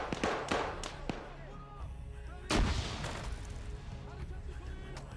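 Grenade blast in the Black Hawk Down video game, a sharp broadband burst midway through a busy stretch of scattered gunfire and battle noise, with talk heard around it.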